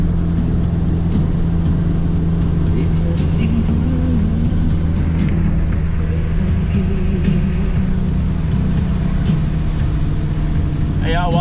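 A car cruising on the elevated Jakarta–Cikampek toll road, steady loud engine and road rumble filling the whole stretch, with someone talking over it.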